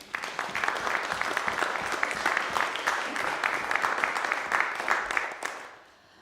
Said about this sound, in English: could we just give them a round of applause for their hard work?